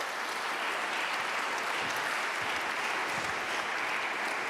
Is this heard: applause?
yes